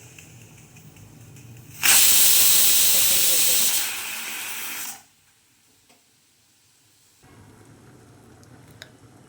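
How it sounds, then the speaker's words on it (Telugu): A pressure cooker whistle bursts out a loud, steady hiss of steam for about three seconds while cooking cucumber-tomato dal, then fades and cuts off, leaving near silence. "ఇంకొక విజల్ రావాలి టూ విజల్స్ వచ్చేసాయి"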